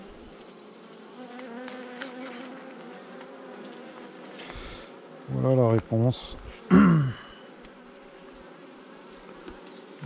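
Honeybees buzzing around a hive with a virgin queen, a steady soft drone of insects underneath, with louder close buzzing passes near the microphone and a brief spoken French remark.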